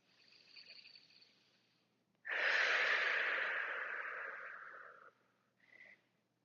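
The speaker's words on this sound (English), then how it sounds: "Take a few breaths." Slow breathing during a neck exercise on a foam roller or yoga block: a soft breath in, then one long, loud, close exhale that fades away, followed by a short quiet breath.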